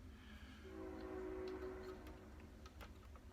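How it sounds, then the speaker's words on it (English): A train passes in the background near a workbench, a faint low rumble with a sustained horn-like tone swelling and fading in the middle, distant and steady with no talk. "I can hear a train in the background."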